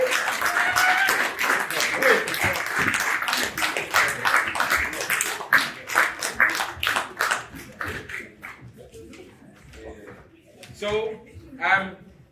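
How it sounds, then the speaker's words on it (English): An audience applauds at a manhood academy rites-of-passage graduation ceremony: dense clapping that thins out and fades over several seconds, with voices talking over it. "So give them a big round of applause."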